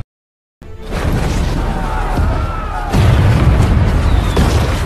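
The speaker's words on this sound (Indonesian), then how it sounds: "Ratusan peluru serta bom mulai dijatuhkan di setiap sudut pertahanan Amerika." Bombs exploding during the Battle of Midway attack on American defenses: after a moment of silence, a loud, sustained roar of booms and blasts rolls on continuously, swelling again near the end.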